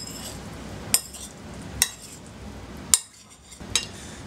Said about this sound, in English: jalapeno pepper, red onion, tomato. Give it a mix.